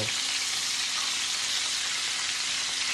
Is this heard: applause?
no